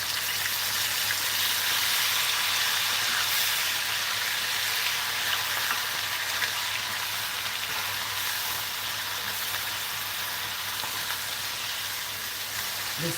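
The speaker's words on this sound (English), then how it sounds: "so now I'm going to add the Scotch bonnet pepper and the onion." Scotch bonnet pepper and onion frying in a pan for a green stew, a steady loud hiss and sizzle throughout, close and continuous with no voices.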